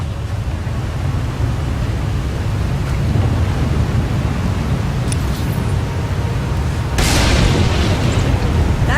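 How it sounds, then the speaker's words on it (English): Lightning and thunder in the Star Wars: The Old Republic game rumble low and heavily over a steady roar, then a loud, sharp crack bursts near seven seconds and stays intense. No voices are heard. "The lightning strikes can be deadly out here."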